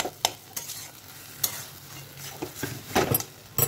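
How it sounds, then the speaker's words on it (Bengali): Potato-and-eggplant mash being stirred and pressed in a kadai with a spatula, giving scraping, clattering strokes at an irregular pace over a soft sizzle, close and fairly quiet with no talking. "এরকম ঘেটে ঘেটে কড়াইয়ের মধ্যেই"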